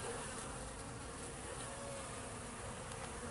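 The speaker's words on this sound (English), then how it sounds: "A little bit more bee activity." A dense, steady buzzing of many honey bees at their hives in late December fills the air, faint and continuous with no pauses.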